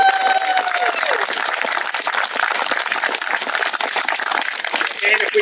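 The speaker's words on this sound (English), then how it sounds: "Let's give them a big round of applause." An audience at a groundbreaking ceremony for a new senior center in Norton claps steadily, dense sustained applause filling the whole stretch at fairly close range with no talk over it.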